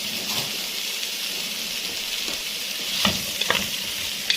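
Sliced sausage frying in a dry pan with no oil over raised heat, a continuous close crackling sizzle with a few sharper spatula scrapes toward the end.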